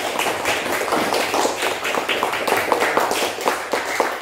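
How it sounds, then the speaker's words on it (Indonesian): Classroom applause from a group, a dense patter of many hands clapping at fairly close range, steady for a few seconds with no talk over it. "Tepuk tangan dulu untuk kita semua."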